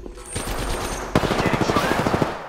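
Gunfire in a battle royale video game: a rapid automatic burst of shots in a fast, even rhythm, loud and close, following a brief lull with a few scattered shots.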